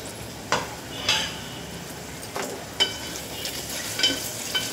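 Onions fry in a pan for tomato rice, a steady soft sizzle under periodic scraping and clinking of a stirring spoon, close and moderately loud.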